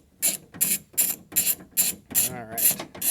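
Repeated ratcheting clicks from a screwdriver loosening a T30 screw on the rear exterior door handle of a 2008 second-generation Toyota Prius, seven short bursts in an even rhythm, close and clear.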